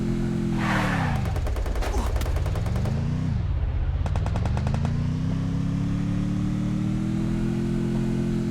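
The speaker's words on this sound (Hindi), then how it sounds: "अब भाई मुझ पे तो एक ही बंदा गन फायर करता" Rapid bursts of automatic gunfire in the Free Fire video game, two clear volleys over a loud, steady vehicle engine that dips and rises in pitch as the jeep drives and revs.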